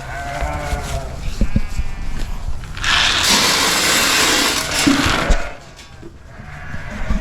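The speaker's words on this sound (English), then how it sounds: "The remaining slaughter lambs are looking good." Lambs raised for slaughter bleat on a farm, several wavering calls near the start, with a loud rushing clatter in the middle before the animals call again.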